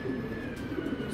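A female long-distance racing pigeon coos nearby, giving a soft, low, rolling call that repeats through the moment with no talk over it.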